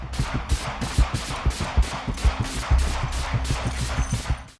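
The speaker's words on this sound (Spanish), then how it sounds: "hasta que de pronto suenan los disparos" Gunfire erupts in a police encounter, a rapid volley of a dozen or more sharp shots in quick, uneven succession at close range, loud against a quiet background with no voices.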